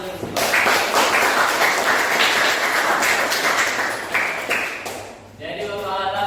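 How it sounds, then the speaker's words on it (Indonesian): Classroom applause from students in an Indonesian mathematics lesson, a dense burst of clapping for about five seconds that fades, with voices and a teacher speaking under and after it. "Tepuk tangan dulu."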